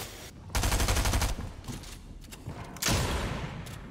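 Bursts of shotgun and rapid gunfire in the Fortnite video game: a loud broadband volley near the start, a sustained rattling stretch, then a second loud burst of shots toward the end, with no talking.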